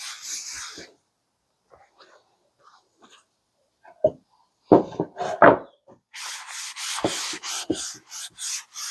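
Sandpaper rubs over a wooden cutting board in short, close bursts of rasping strokes separated by quiet gaps, ending in a faster run of rhythmic scrubbing.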